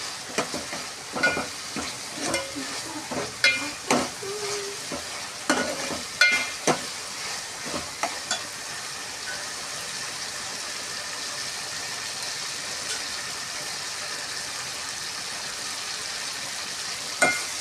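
Tomatoes and dal masala for Vidarbha-style dal bhaji sizzle in a pan, with close spoon clinks and scrapes of stirring for the first half before settling into a steady, even sizzle alone.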